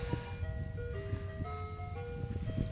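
An ice cream truck plays its tinkly melodic jingle, a steady string of bright sustained tones over low traffic rumble, fairly close and continuous throughout.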